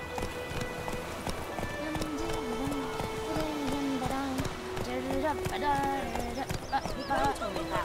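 Horse hooves clip-clop at a steady walking rhythm in The Witcher video game, mixed with game music and a voice talking over the top.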